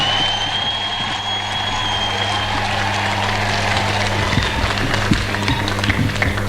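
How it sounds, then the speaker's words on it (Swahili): Crowd applause at a burial service in Gatundo, Kenya, as President William Ruto is welcomed: steady, dense clapping that fills the space without pause, over a low constant hum. "Makofi."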